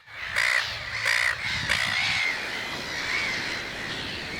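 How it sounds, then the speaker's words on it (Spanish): Seabirds nesting on Penguin Island, Australia, give fierce harsh cries: three loud squawking calls in quick succession, then fainter, drawn-out calls trailing off over a soft background hiss. "Innumerables de ellas ponen sus huevos en nidos y los protegen con feroces gritos."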